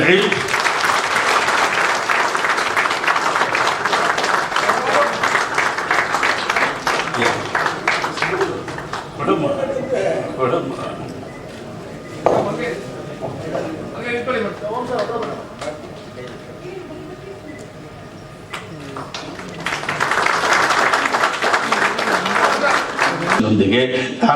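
A film event audience bursts into loud, dense applause that rolls on for several seconds, fades under a voice over a microphone, then swells again near the end.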